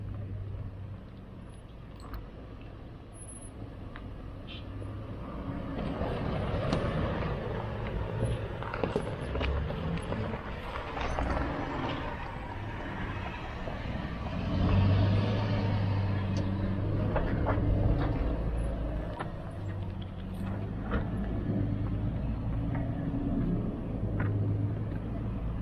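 A 4x4 vehicle grinds along the off-road Hennops trails, its engine rumbling and surging steadily with bumps and rattles over rough ground, louder in the middle stretch.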